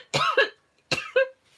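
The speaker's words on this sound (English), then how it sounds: "Oh, cough, cough, cough" Two short, harsh coughs, each a quick double burst, separated by a brief pause, close and clear with no talk.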